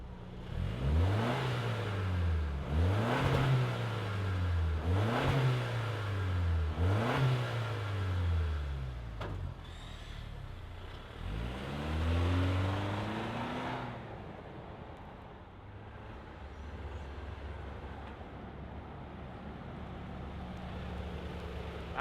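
A 2025 Toyota 4Runner TRD Off-Road revs repeatedly in rhythmic rising-and-falling bursts, five or six in a row, then pulls away and fades into a lower, steadier drive rumble; no talk.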